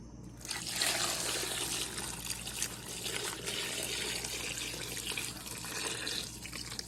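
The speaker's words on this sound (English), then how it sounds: "So now I'm just going to pour it into the crock." Salt brine pours into a pickle crock in a steady, close trickle that keeps splashing and dribbling for several seconds, fairly soft and with no talk.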